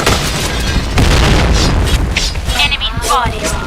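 A grenade goes off in a game with a loud, booming blast and a rumbling decay. A voice shouts over the blast.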